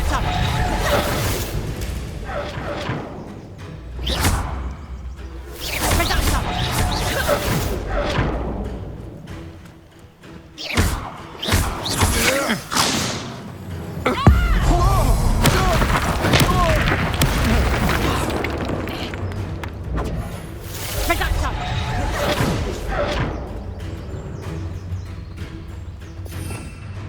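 Blasting-curse explosions from the Hogwarts Legacy video game boom and thud repeatedly through a busy, dense mix, with whooshes between the blasts and speech heard alongside.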